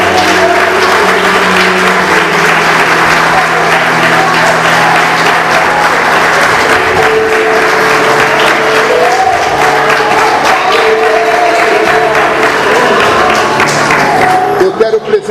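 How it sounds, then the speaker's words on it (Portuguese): A church congregation at an evangelical Sunday sermon gives loud, sustained applause for over fifteen seconds, a thick wash of clapping with faint sustained tones underneath that thins slightly at the very end. "Você pode aplaudir a Jesus?"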